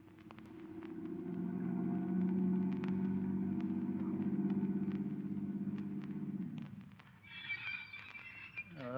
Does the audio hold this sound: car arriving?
yes